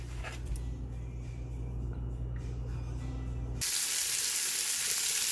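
Bacon and chorizo hit a hot pan for frijoles charros: a low steady hum gives way abruptly to a loud, continuous close-up sizzle that holds to the end.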